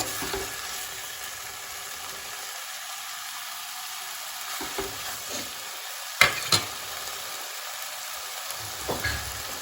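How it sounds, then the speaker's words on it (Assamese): Oil frying in a pan while Maggi noodles are made, a steady close sizzle with stirring, a few louder scrapes or clinks around the middle and near the end, no talk. "যিখিনি তেল দিছিলোঁ সেইখিনি এতিয়া ফ্ৰাই কৰিছোঁ"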